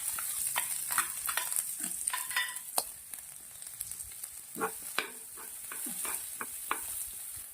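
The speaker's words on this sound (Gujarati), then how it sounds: "ડુંગળી ગાજરને આપણે બહુ નથી શેકવાના" Onion and carrot sauté in a pan with spices, a soft background sizzle broken by irregular spoon clinks and scrapes against the pan, close and fairly quiet, no talking.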